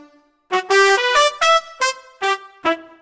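Bright brassy sampled rock-band horn section stabs, a sustained chord followed by several short punchy hits in a rhythmic pattern, loud and clean with no voices.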